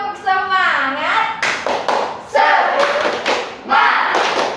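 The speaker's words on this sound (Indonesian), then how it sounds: "Ayo sekali lagi tepuk semangat." A primary school class performing a rhythmic clapping chant, children's voices calling out in unison punctuated by sharp group claps and thumps in a repeating pattern.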